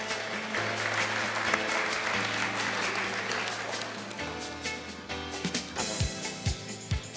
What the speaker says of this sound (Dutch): Applaus voor meneer Bos.